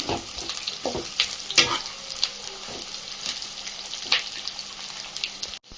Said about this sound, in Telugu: ఇవి బాగా వేగాలి.